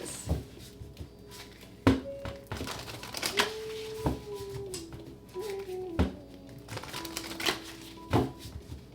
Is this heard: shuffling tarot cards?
yes